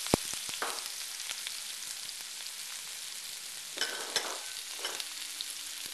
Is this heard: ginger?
yes